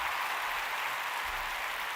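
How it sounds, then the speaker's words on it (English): Dense, continuous clapping from a crowd, steady and fairly distant, with no voices standing out. "That will definitely hold a quick round of applause."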